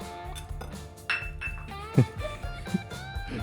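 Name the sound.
Thermomix butterfly whisk attachment being removed, clinking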